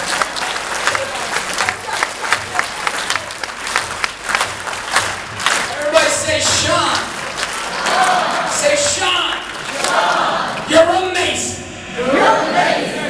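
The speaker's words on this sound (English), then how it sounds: "Everybody clap your hands for Sean." A motivational talk audience claps their hands for a volunteer named Sean, loud bursts of applause mixed with cheering and some shouts, rising and falling in waves with a voice cutting through.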